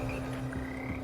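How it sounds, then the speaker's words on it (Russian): A choir of magical frogs in the Hogwarts Legacy video game croaks in a steady, low chorus of overlapping calls, moderately quiet and continuous, with no talk. "Здесь восседают скользкие, но вполне симфоничные лягушки, из которых состоит хор лягушек Хогвартса."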